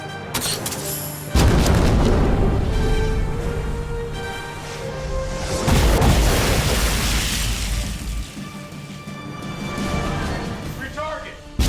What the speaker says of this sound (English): Fire the main gun!